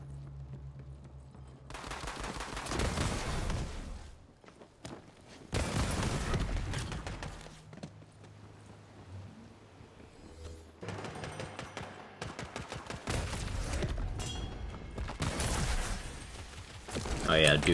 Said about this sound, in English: It's a good introductory launcher to get a good feel for micro rockets.